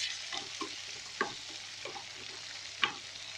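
Sliced onions frying in a pan with oil while cooking a fish and tofu dish, a soft steady sizzle with a few brief stirring scrapes and clicks, close and fairly quiet.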